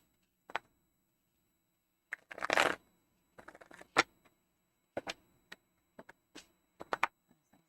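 A deck of tarot cards shuffled by hand in a very quiet room: short separate bursts of papery rustling and crisp slaps, one longer riffle, with no speech over them.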